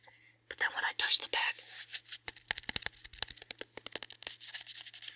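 Fingertips rubbing and tapping across the smooth back of a cloth-covered book with an attached sticker, close and soft, starting as a dry brushing scrape and breaking into a run of quick light taps.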